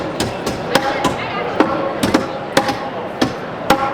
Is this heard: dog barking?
no